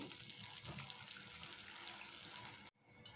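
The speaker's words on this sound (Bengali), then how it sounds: "বাটিটা ধুয়ে দিয়ে দিচ্ছি" Faint running water as a mixer jar is rinsed in a kitchen, a steady splashing stream that cuts off abruptly near the end, with no talking.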